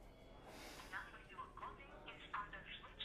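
A phone call to a switched-off number plays faint, muffled telephone-line audio with brief tonal blips over a steady low hiss, heard at a distance.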